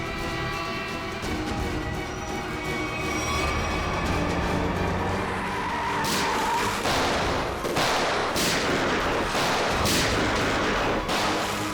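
Gunshots in a Hindi action film scene, several sharp loud bursts in the second half, following a steady rumbling background, with no speech.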